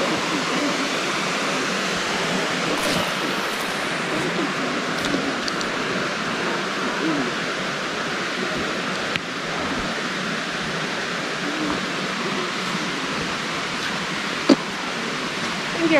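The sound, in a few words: waterfall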